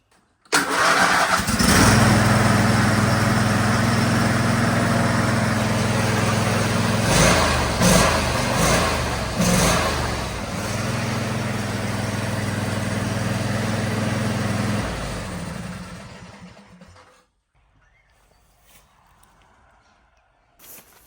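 A ride-on lawn mower engine cranks and catches, running loud and steady with a few sputters before cutting off abruptly, leaving near silence.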